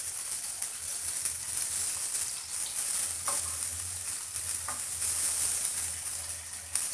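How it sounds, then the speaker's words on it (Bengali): Prawns sizzling and frying in a pan for a prawn malai curry, a steady close crackle with occasional stirring clicks and no talk. "সবগুলো এভাবে উল্টিয়ে দিয়ে অল্প একটু ভেজে আগে থেকে নামিয়ে ফেলব"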